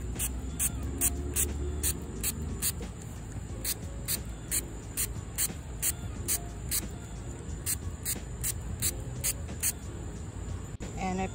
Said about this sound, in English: I have a hydrogen peroxide solution over here. And I'm just gonna spray the roots.